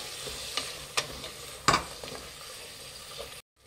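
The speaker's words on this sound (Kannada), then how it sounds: "ನಾವೇನು ರುಬ್ಬಿಟ್ಕೊಂಡಿದ್ವಲ್ಲ ಮಸಾಲೆ ಹಾಕ್ತಾ ಇದ್ದೀನಿ. ಮಿಕ್ಸ್ ಮಾಡಿ" Ground masala stirred into a cooking pan for hotel-style bread pulao: a few sharp spoon scrapes and clanks over a low, steady sizzle, then sudden silence at the end.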